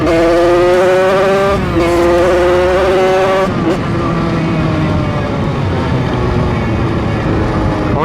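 An 86cc aluminium top-kit moped engine revs hard while riding on a road, its whining pitch climbing in steps as it shifts, then settling into a rough, buzzing drone with wind rush and road rumble close and loud throughout.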